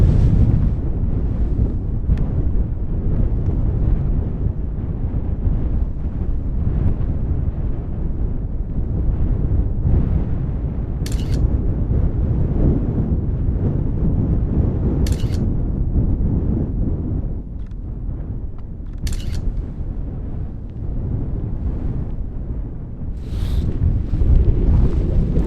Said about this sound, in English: a little bit too windy for my taste